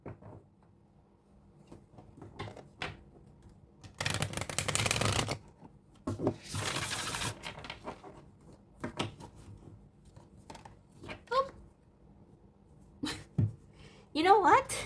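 A deck of tarot cards is shuffled in several loud bursts of riffling and sliding, with soft taps and handling sounds between them in a quiet room.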